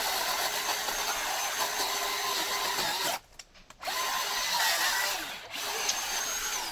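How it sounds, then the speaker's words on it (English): A Bauer chainsaw whines steadily while cutting tree branches, loud and close. The motor briefly cuts out twice, once for about half a second, then resumes its buzzing drone. "this Bauer chainsaw is a game changer for doing a branch here, a branch there."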